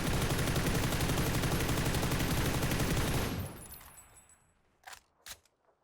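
FAMAS assault rifle firing in PUBG with compensator, extended mag and half grip: a dense sustained burst of rapid shots for about three seconds, then a ringing tail and two short separate shots.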